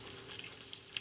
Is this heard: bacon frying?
yes